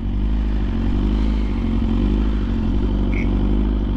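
A 1000cc motorcycle engine runs loud and close, a steady low rumble with constant droning tone and no clear revving, alone without voices.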